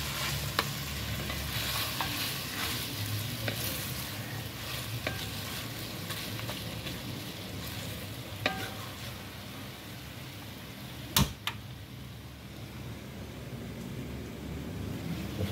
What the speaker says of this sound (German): Basilikumblätter. Die werden jetzt hier einfach nur untergehoben, also nicht zu lange.